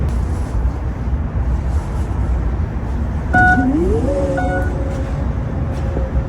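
A power tailgate on a 2023 Mercedes-AMG GLE 53 Coupe closes after a foot swipe under the bumper, giving a few warning beeps and a rising motor whine over steady outdoor traffic and ambient noise.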